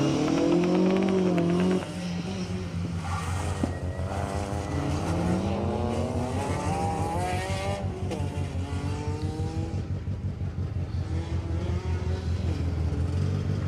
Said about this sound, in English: The noise you hear behind me as the cars arrive back at the time control at the end of the stage